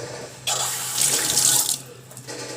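Tap water pours into a cooking pot of tomatoes, starting with a sudden gush and then a louder, steady splashing stream that eases off toward the end, heard close up.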